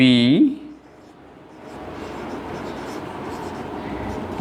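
A pen draws a line on paper during a geometry construction, a soft, scratchy stroke lasting a few seconds after a brief moment of speech.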